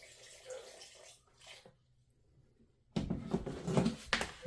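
Water is poured by hand into a bowl of granulated sugar from a 25-pound bag for winter sugar boards, a soft pattering trickle that pauses briefly and then returns louder and closer.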